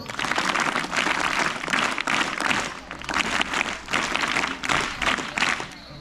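An audience at a school tribal dance celebration claps in welcome, bursts of loud, fairly even group clapping broken by short gaps, close and filling the space.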